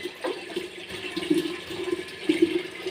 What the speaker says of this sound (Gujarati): હવે એ જ માટલામાં આપણે પાણી ભરીને 30 મિનિટ માટે છોડી દઈશું।